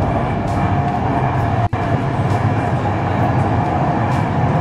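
Steady, loud rumble and rattle of a moving passenger train between Prague and Vienna, heard from inside the carriage, with a continuous broadband roar and one brief dropout partway through.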